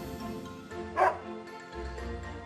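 A puppy in the video game Another Code gives a short yippy bark followed by soft whimpering yips, close and clear over a quiet in-game backdrop.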